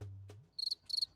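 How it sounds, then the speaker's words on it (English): Two short bursts of high, rapid cricket chirps, close and clear, following a brief low thump and click. "It's the sound of crickets."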